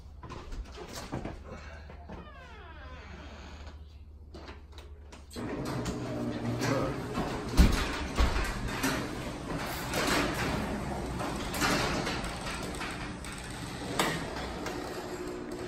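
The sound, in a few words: garage door being lowered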